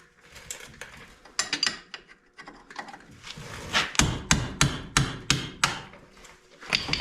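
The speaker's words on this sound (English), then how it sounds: "I just take a little mallet if I need a little bit of negotiation." A small mallet taps bolts during brake service on a Polaris RZR 900S, with close, sharp knocks that start scattered, then fall into a steady run of about eight evenly spaced hits.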